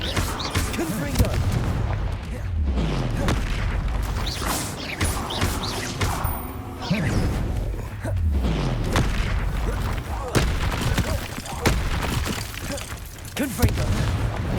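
Repeated fire-blast spells from Hogwarts Legacy burst as heavy booms among rumbling game effects, several blasts across the stretch with steady loud action and no clear talk over them.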